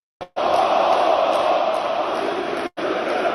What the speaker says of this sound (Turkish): Aziz Yıldırım tezahürat yapıldı.